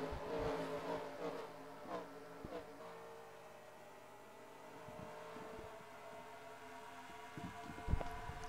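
Simulated NASCAR stock car engines from NASCAR Racing 2003 at Homestead, a steady moderate drone of several cars with shifting pitch and occasional revving, fairly quiet and low in the mix, with a brief louder burst near the end.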